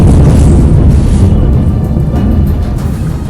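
A missile strikes the upper part of a building in a Russian attack on a Ukrainian city, giving a loud, sustained low rumbling blast roar that slowly fades over a few seconds with no voices.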